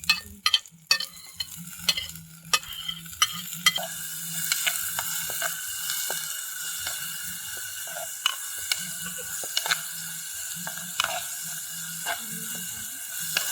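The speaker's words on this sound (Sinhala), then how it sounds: "අපි ඊට පස්සේ අපි කපාගත්ත සුදු ලුණු තක්කාලි අවමිරිස් ටික තෙලේ දාලා හොඳට බැදගමු." Garlic, tomato and chilli fry in coconut oil with a continuous close sizzle. Frequent sharp clicks and scrapes from stirring break through it, and the spatter is busiest at the start.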